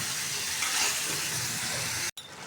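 Eggs frying in a pan for a home meal, a dense steady sizzle and hiss filling the space close up, interrupted by a sudden short gap near the end before resuming.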